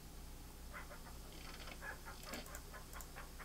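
Clucking from a chicken in the King's Quest 3 Redux adventure game, a run of soft, short repeated clucks over a steady low background hum, moderately faint and with no talking.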